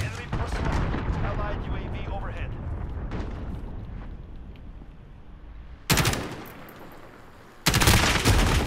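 Video game gunfire crackles in loud, sharp bursts, with two sudden heavy volleys late on after a rumbling stretch of battle noise, and players talk over the action.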